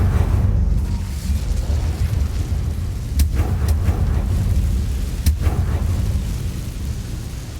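The Incendio fire spell cast in Hogwarts Legacy: a low, roaring whoosh of flame that holds steady, with a few sharp bursts crackling out over the rumble.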